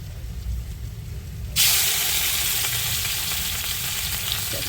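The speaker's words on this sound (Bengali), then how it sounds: "এখন আমি চিংড়ি মাছটাকে ভেজে নেব তেল দিয়েছি তেলটা গরম হয়ে গেছে" Shrimp hit hot oil in a pan: after a quiet start, a sudden loud, bright sizzle bursts up and keeps hissing steadily to the end.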